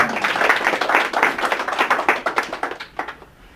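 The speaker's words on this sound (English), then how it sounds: "Big round of applause for her." A small seminar audience claps for a participant, a quick run of close, irregular handclaps that thins out and fades after a few seconds.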